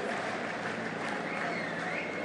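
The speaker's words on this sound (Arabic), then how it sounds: "بكل تأكيد يستحق هذا الرجل هذه التحية من الجماهير الوفية" A crowd applauds at a football league trophy ceremony as the shield is presented, with dense, continuous clapping and cheering that keeps a steady level across the whole stretch.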